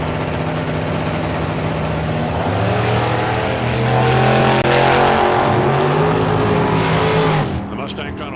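A Mustang and a Chevy II drag race at the Hangover Nationals, roaring loud and sustained as engines scream down the strip, then dropping away near the end, with an announcer talking over it.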